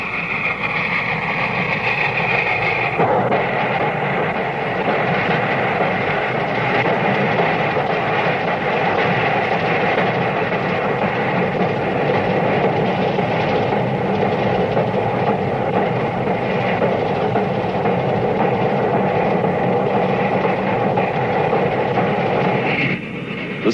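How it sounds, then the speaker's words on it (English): A Union Pacific Big Boy steam locomotive runs on Sherman Hill in Wyoming with a loud, sustained rumbling roar and a continuous rolling rail clatter, close and steady for the whole stretch before cutting off abruptly. "The shattering sounds from its stacks and the moan of its chime whistle more stirring than any concert"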